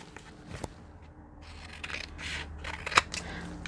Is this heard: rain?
no